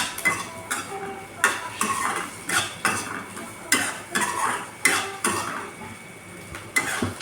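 Onion frying in a pan, stirred with a metal spoon that scrapes and clinks against the pan in a steady rhythm of strokes over a faint sizzle, close by.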